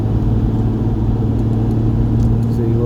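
A Jaguar E-Type V12 cruises on a road at about 2400 rpm, its engine holding a loud, smooth, steady low hum heard from inside the car.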